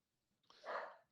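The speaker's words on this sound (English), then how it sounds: "my dog's barking in the background" A single dog bark from somewhere in the background, one muffled, fairly faint woof rising and fading within about a second, heard alone without speech.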